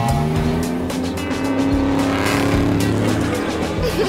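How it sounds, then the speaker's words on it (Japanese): Toy race cars speed around a pool-noodle track at the beach, with loud, continuous engine revving and repeated tire squeals as they pass, one after another with no voices over them. "さあ、エンジンをかけて、"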